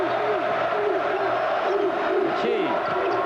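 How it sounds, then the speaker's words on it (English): A basketball arena crowd at a 1994 Temple versus UMass college game roars and cheers continuously, loud and dense, with shouted voices rising through the din. "the crowd cheers as he returns to the scorer's table"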